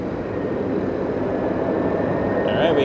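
A SkyWest Airlines Embraer flying as United Express lands at Los Angeles International Airport, giving a steady, fairly loud broadband jet roar that swells slightly toward the end.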